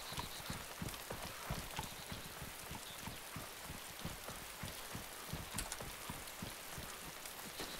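Steady rain falls in the survival game DayZ, a dense, even patter with faint dripping taps running throughout at moderate level, no voices over it.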